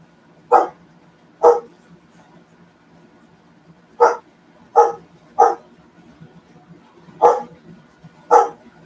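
Dogs bark in separate sharp bursts, seven barks spaced irregularly over several seconds against a quiet background, fairly close by.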